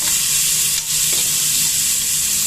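Sliced big onions, garlic and dried red chillies fry in a pan for dal rice, a loud, dense, continuous sizzle close up with little else audible and no talking.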